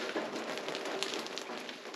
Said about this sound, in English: It is definitely raining this morning.